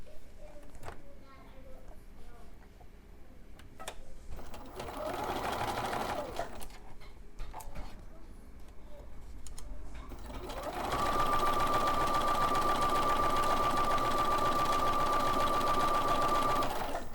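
Sewing machine stitching a white strip onto a pre-cut layer cake quilt, with short bursts of whirring stitching early, then a long steady run of fast needle hum with a clear whine, and a voice talking between bursts.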